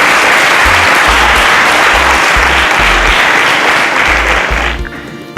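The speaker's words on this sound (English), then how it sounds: "A round of applause for him" A studio audience applauds a student who plans to study mechatronics engineering, loud continuous clapping close up that fades near the end.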